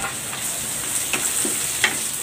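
Sliced onions hit a frying pan already holding garlic, giving a loud, continuous sizzle close up, with a few soft scrapes of stirring and no voices.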